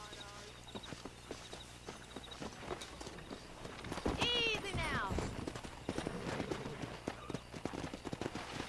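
In the video game Red Dead Redemption, hooves clip-clop at a steady walking pace, with a horse whinnying briefly in the middle while someone speaks calmly over it.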